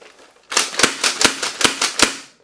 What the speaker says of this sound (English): Oh, we got slam fire action.